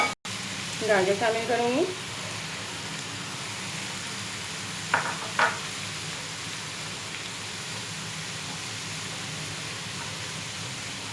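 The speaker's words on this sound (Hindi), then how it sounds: "अब ये अच्छी तरह से फ्राई हो गया है" Chicken for macaroni fries in a pan with a steady, even sizzle throughout, while someone speaks briefly near the start and again midway over the hiss.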